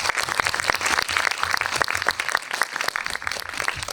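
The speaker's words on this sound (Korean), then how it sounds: "입장하실 때 큰 박수로 환영 부탁드립니다." An audience at a film anniversary screening event in a small cinema claps to welcome the director and actors onstage, a brisk, fairly dense patter of hands throughout.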